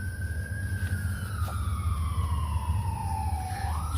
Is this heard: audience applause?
no